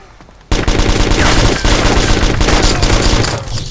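Intense close gunfire in DayZ, a dense fusillade of rapid automatic shots erupting suddenly and continuing loud and steady for several seconds, with no talking.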